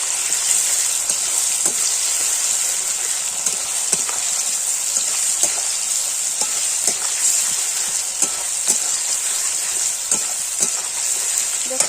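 Onions fry loudly in a pan for a jackfruit curry, a steady close sizzle with scattered clicks and scrapes of stirring throughout.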